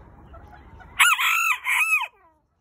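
After a low, noisy hum, a rooster crows loudly nearby, one full cock-a-doodle-doo rising and falling in two strained bursts before fading.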